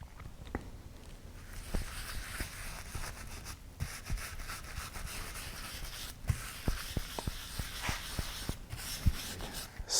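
A cloth rubs tung oil onto the wooden body of a six-string multi-scale guitar, a soft, close, continuous scrubbing with scattered small ticks and taps.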